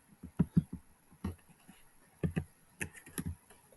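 Quiet, uneven keystrokes on a computer keyboard while entering a math function, short clusters of light clicks with brief pauses between them.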